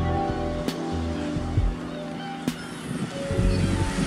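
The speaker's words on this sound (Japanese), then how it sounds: "ショアブレイクですね。" Small shore-break waves at a surf spot at dawn under a light offshore breeze, washing in as a steady, close, continuous roar with a few sharp knocks and surges.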